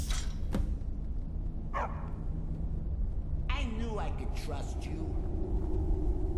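The dog Barbas barking in Skyrim, a few short barks and yips spaced out over a low rumbling game ambience.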